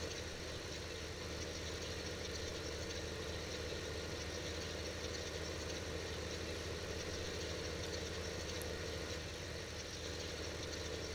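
A tractor engine idles steadily in Farming Simulator 15, a constant low droning hum with a dense mechanical rumble, unchanging throughout and heard alone.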